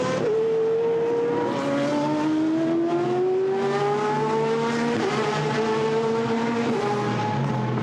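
GT race cars from the Blancpain GT Sports Club lap Misano circuit in a 2016 main race, with loud overlapping engine drones climbing steadily in pitch as the cars accelerate, continuous throughout with no voices.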